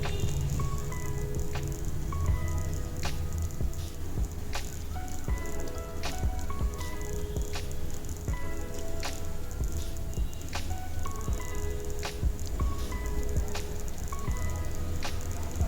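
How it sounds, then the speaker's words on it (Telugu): Jaggery syrup bubbles and cooks in a pot while being stirred, for Sankranti ariselu, giving a steady, wet squishing and popping texture with small clinks throughout and no voices. "ఇలాగా కలుపుకుంటూ ఉడికించుకోవాలన్నమాట"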